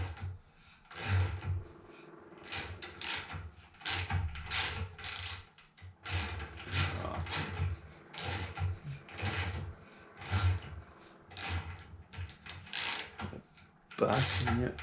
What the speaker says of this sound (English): Now wind this in by hand, because you want to make sure that you get back onto the threads that you've already cut.